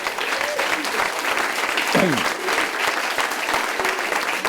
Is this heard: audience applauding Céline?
yes